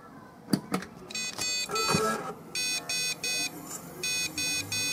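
A desktop PC with its memory removed sounds long POST beep codes, a loud electronic tone repeating in steady on-off pulses, preceded by a few clicks and handling knocks as it is switched on.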